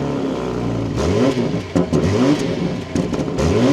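A 2025 BMW M340i engine revving, with rising and falling pitch sweeps from repeated throttle blips, loud and close with no talk over it.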